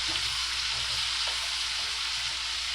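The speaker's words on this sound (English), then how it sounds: "Now what we're doing here is cooking your onions." Onions frying in a pan for a home-cooked steak dinner, a steady, even sizzle holding at one level throughout with no voices, close and fairly loud.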